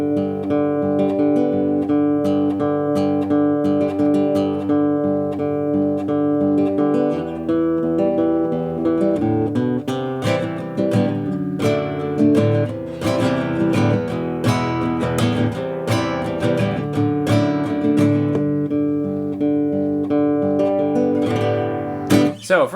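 An Ortega DS Suite acoustic guitar played fingerstyle with hybrid picking and strumming, working through a song in standard tuning. The part is steady and melodic, with a fuller rhythmic middle stretch, recorded close with no voices.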